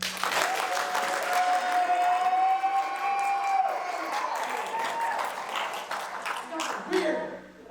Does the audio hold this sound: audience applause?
yes